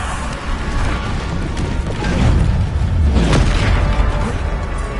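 Bombarda blasting spell from a video game, a loud continuous roaring blast with a booming low rumble and crackling bursts that swells mid-way and stays dense throughout, close and overpowering with no voices.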